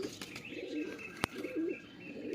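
A closed-tail tournament pigeon coos in soft rolling phrases at a loft, two or three low calls close by, with a sharp click partway through and no talk.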